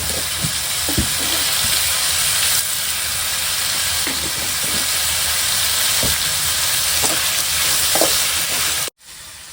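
Ingredients sautéing in a pan produce a loud, continuous hissing sizzle broken by intermittent stirring knocks, ending in a sudden cutoff.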